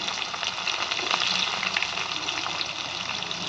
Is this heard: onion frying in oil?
yes